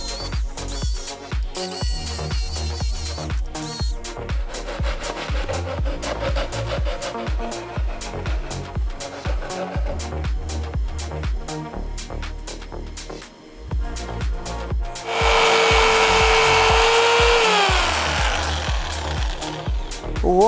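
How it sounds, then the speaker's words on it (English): A power saw cuts through plywood in a workshop during a monster truck build, a loud continuous grinding, rattling whine with chattering bursts, rising to a brighter, harsher screech partway through, and no talking. "So I'm cutting another piece of plywood here."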